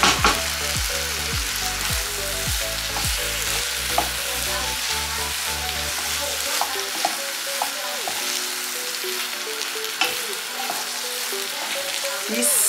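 Macaroni and corned beef are stirred together in a pan, a steady run of close scraping and clattering strokes with a soft sizzle underneath, no voices.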